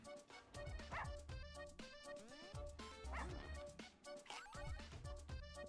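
Cartoonish dog barks and yips from a video game that burst out repeatedly over busy game music and effects, with a whimpering note here and there, loud and close throughout.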